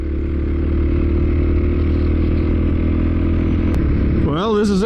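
Kawasaki KLX 250 with a big bore kit and new valves on its first break-in run, the single-cylinder engine holding a loud steady idle that rises into a few quick revs near the end.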